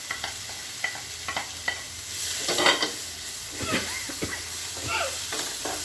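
Boiled potatoes and carrots being stirred in a frying pan, with a soft continuous sizzle and scattered scraping strokes of a spoon against the pan, moderately close.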